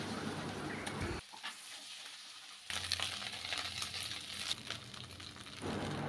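Crabs frying in oil in a pan give a soft hissing sizzle that drops out briefly and returns, faint and close, with a few light clinks from a utensil.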